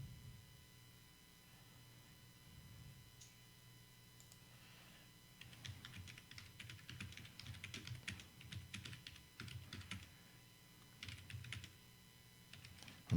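A computer keyboard is typed on for a message, starting quietly, then bursts of quick key clicks in uneven runs with brief pauses between them, close by and fairly faint, with no one talking.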